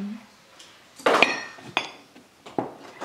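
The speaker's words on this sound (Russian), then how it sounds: "Нравится тебе накрывать на стол?" Several sharp clinks and clatters of plates and cutlery being set down while setting a birthday table, spaced irregularly and close by, with brief murmurs between.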